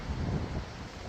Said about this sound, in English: Look at how the water is coming down.